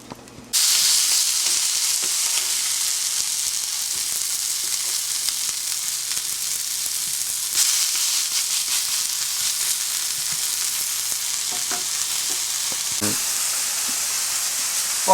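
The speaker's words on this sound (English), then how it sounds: "There we go, sort of ever so slowly frying." Pork schnitzel frying slowly in a pan with garlic, a steady broadband sizzle and crackle that runs continuously and fairly close, with occasional small pops and no talking.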